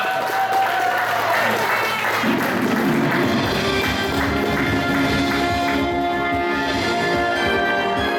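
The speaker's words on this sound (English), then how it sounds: "let's give a round of applause" A convention audience at an anime-style game show applauds heartily. Steady, dense clapping fills the room alongside crowd noise and some tonal background sound, continuing without pause.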